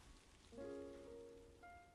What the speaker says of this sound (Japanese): 雨が弱まってきたな